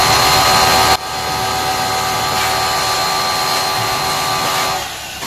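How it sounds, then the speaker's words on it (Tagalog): A Surefly pressure washer with a 6-meter hose sprays a motorcycle, giving a loud, steady hiss of high-pressure water that starts abruptly, holds nearly constant for about four seconds and eases off at the end. "Ganyan kalakas yung power spray na to."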